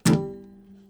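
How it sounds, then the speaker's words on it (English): A single muted guitar strum gives a short percussive thump followed by a brief damped ring, close and fairly loud. "a palm mute in my right hand"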